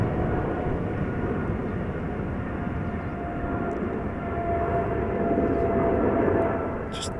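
A Boeing 777 in SkyTeam livery takes off from Amsterdam Schiphol, heard as a steady, broad, low jet-engine rumble at a distance that swells slightly toward the end.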